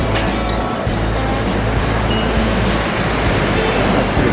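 Steady, loud rushing water from a mountain creek fills the scene beside a backcountry campsite and old metal bridge in the Great Smoky Mountains, a continuous broadband roar with no pauses.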